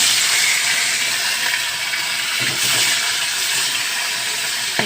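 Phasa fish frying in oil sprinkled with salt produce a loud, continuous broadband hiss that holds steady throughout, with slight swells but no pauses.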